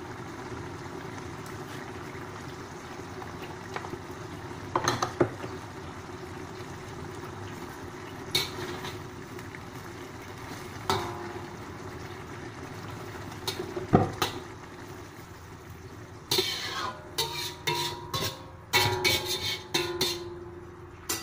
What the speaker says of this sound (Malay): biar dia merenih sekejap supaya sambal tu masuk dekat ikan tu